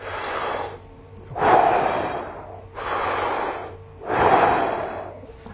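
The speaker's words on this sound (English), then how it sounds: "if you're able to do that breathing through your nose" Slow, steady nasal breathing, with two full inhale-exhale cycles heard up close as alternating airy rushes through the nose and no talking.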